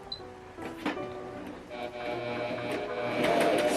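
A Pfaff Coverlock 4.0 sewing machine stitching fabric runs steadily and quietly with a mechanical hum and light clicks, rising slightly toward the end, with no one speaking.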